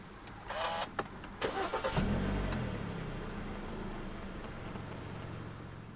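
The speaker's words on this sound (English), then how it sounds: "Put your foot on the brake and press the start button to the left of the steering wheel." A 2013 Kia Sportage 2.0 AWD starts with a short starter whir, catches, and settles into a steady, moderately loud idle that keeps running to the end.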